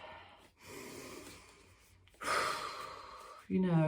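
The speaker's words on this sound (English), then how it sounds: "feel free to just take a big breath in and a big breath out." A long, audible breath drawn in, a pause, then a deep exhale, close to the microphone, followed by the start of a voice.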